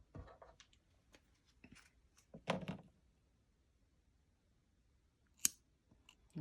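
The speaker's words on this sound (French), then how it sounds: "Je viens couper mon fil." Scissors snip through yarn during crochet work, giving a few quiet, sharp cuts and clicks close by, with soft rustling and handling noises between them in an otherwise quiet room.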